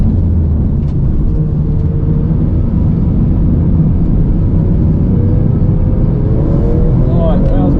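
A Porsche 997 Carrera GTS circles a race track close behind a BMW, its engine droning loud and steady throughout with a faint rising whine near the end, heard from inside the car.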